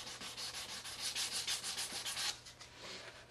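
Light sanding along the saucer edge of a 1:350 scale Enterprise refit model kit: quiet, quick back-and-forth rubbing strokes in a steady rhythm, close and alone.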